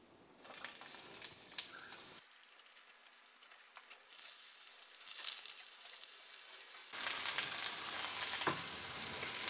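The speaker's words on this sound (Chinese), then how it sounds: "现在我们要炒别的东西" Ingredients for Chinese-style pasta crackle and sizzle in a hot wok, with scraping stir strokes; the frying drops to near silence midway, then returns louder and denser.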